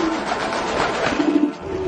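Pigeons coo in low, soft, rolling calls over a steady outdoor background hiss, close and continuous for a couple of seconds.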